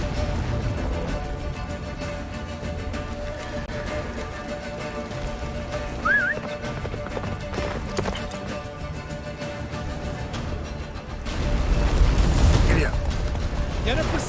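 Roach, Geralt's horse in The Witcher 3, gallops in rapid rhythmic hoofbeats with creaking tack, steady and close, swelling louder near the end, with a brief whinny-like cry midway and game effects underneath.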